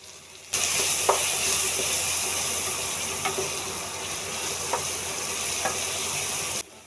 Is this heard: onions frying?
yes